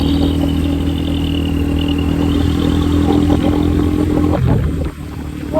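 A Honda Winner X 150 motorcycle is ridden on a test drive after a chain adjustment, its engine droning steadily and close, mixed with wind and road rumble, easing briefly near the end.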